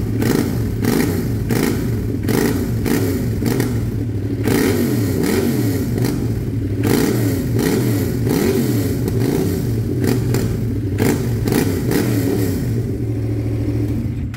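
A two-cylinder motorcycle engine with a 180-degree crankshaft revs steadily, giving a loud, uneven, lumpy rumble that runs continuously throughout with no voices.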